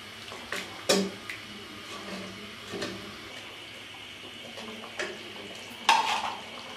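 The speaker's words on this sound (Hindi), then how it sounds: "अब मैं आँच तेज़ कर दूँगी और चम्मच चलाती रहूँगी।" Chicken afghani karahi stirred with a spoon over high heat: a steady frying sizzle with a few sharp spoon clinks and scrapes against the pan, close and moderately loud, with no talking.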